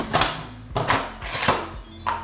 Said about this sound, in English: Okay, now we're gonna put the lid on.